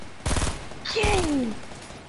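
Two quick bursts of automatic gunfire in the video game Fortnite, each a rapid rattling volley, with a short whistling sweep between and after them.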